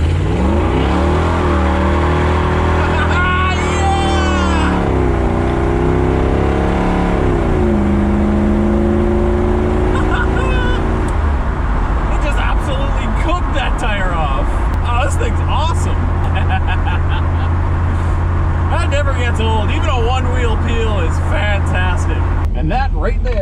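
A V8 Chevrolet S10 truck accelerating hard onto a highway merge lane, its engine note climbing and dropping through gear shifts, then a steady roar under road and wind noise while people talk and shout.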